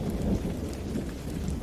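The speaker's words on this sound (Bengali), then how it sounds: "আর মাঝে মধ্যে আকাশ বিদীর্ণ করে ভেসে আসছিল বজ্রপাতের ঝলকানি।" Heavy rain pours steadily under a deep rolling thunder rumble, a dense stormy night soundscape with no voices.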